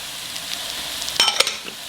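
Chopped onions and celery hit a hot pan of melted fat for chicken noodle soup, starting a steady close sizzle with a few sharp clinks of the utensil against the pan.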